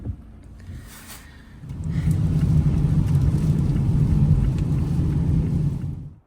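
A car driving through Kyiv, its engine and road rumble swelling from a quieter start into a loud, steady drone heard from inside the cabin, then cutting off abruptly at the end.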